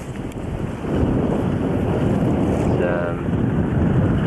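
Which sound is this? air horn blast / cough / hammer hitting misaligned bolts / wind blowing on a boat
wind blowing on a boat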